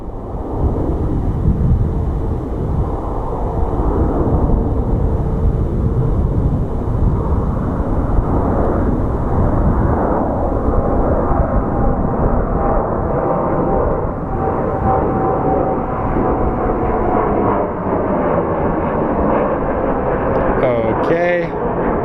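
Airliner passing at Phoenix Sky Harbor International Airport, a loud continuous jet roar that holds steady throughout, with a faint rising whine near the end and no talk over it.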